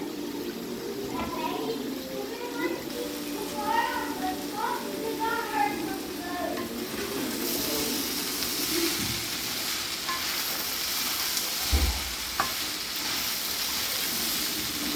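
Ivy gourd pieces fry with grated coconut in a pan, a steady sizzle running throughout while a utensil stirs and scrapes the mixture, with a couple of louder clanks near the end; a voice speaks over the cooking.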